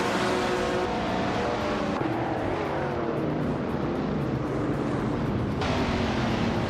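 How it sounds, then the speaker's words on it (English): Vintage race cars, led by a 1966 McLaren Elva Chevrolet, launch at the start of a Cleveland Grand Prix in a racing video game, with a dense, steady engine roar and rising revs that sweep past continuously without any talk. "the race is kicking off at Cleveland Grand Prix, and leading the pack is Titan 61 in a sleek 1966 McLaren Elva Chevrolet"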